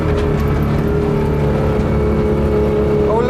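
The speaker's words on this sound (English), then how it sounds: "that is inside a William. A Willam, sorry. Willam. With its 125cc engine" A Willam microcar with a 125cc engine runs at a microcar rally, its small motor buzzing and whirring steadily up close with a brief rising rev at the end.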